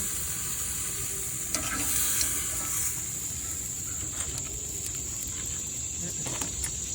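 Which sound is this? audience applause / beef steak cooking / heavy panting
beef steak cooking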